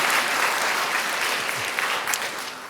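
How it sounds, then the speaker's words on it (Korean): A church congregation at a Sunday afternoon service breaks into a brief, full round of applause, dense and steady, fading slightly at the end. "자, 박수 한번 쳐주세요."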